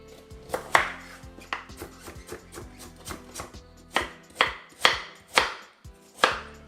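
Carrots chopped with a knife for a Jamaican-style curry beef dinner: a dozen or so crisp, close knife strikes land in an uneven rhythm, growing louder and sharper toward the end, with no talking.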